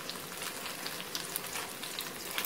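Whole cinnamon and cloves fry in hot oil as a tempering for a home-style chicken curry, giving a dense, continuous crackling sizzle close up with no talking.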